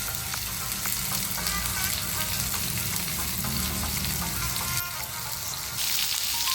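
Sliced potatoes frying in hot oil over a high flame, a loud continuous sizzle with crackling bursts and occasional scraping as they are tossed and mixed.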